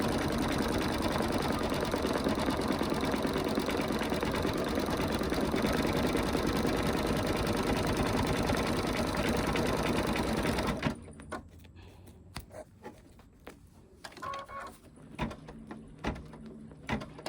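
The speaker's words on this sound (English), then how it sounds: "I'm going to hold the button in. Let it stitch slowly." An embroidery machine slowly stitches a snowman design with a steady, continuous mechanical whir for about eleven seconds. It then stops abruptly, leaving quieter scattered clicks and handling noises.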